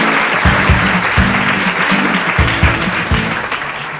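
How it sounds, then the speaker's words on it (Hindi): A quiz show audience breaks into loud, dense applause for a contestant's win, layered over a thumping rhythmic beat that pulses every half second or so. "जोरदार तालियां हो जाए भाई।"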